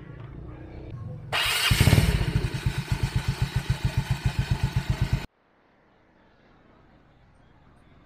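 A Yamaha Mio Soulty scooter engine catches and runs with a steady, rapid putter that rises in loudness and stays close, then cuts off abruptly into near silence.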